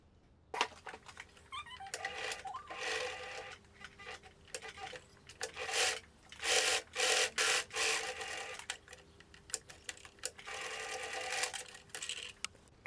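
Sewing machine stitching two colour fabric pieces of an asymmetric summer button-up top together, right sides touching, heard as bursts of rapid mechanical stitching with short pauses between runs, close and steady.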